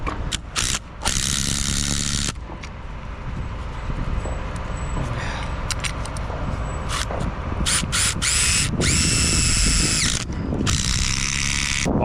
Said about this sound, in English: gotta add more straps down it.